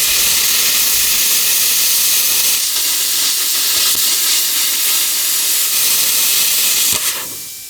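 A Simder CUT 50 plasma cutter slices through 1/8-inch painted metal, a loud, steady roaring hiss with a faint hum that runs nearly unbroken before cutting off abruptly at the end.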